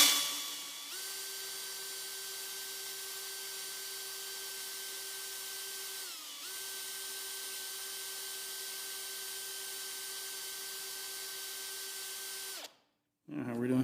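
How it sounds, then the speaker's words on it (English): A handheld drill bores holes through metal on a welding table with fixturing clamps, its motor whining steadily and close, briefly dipping in pitch halfway through before cutting off sharply. "Make sure I'm not drilling through my nice welding table"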